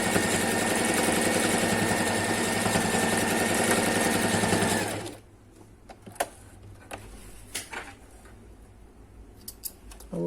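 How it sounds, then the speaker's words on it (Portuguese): A sewing machine running a zigzag stitch to attach elastic to a fabric face mask, a dense continuous mechanical whir for about five seconds, then stopping, followed by quiet handling clicks and rustles. "a gente vai passar uma costurinha de zigue-zague algumas vezes"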